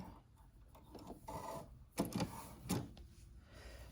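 A sewing machine's automatic needle threader operating near the needle eye, a series of small mechanical clicks and clacks with a couple of sharper snaps, fairly quiet and close, with no talking.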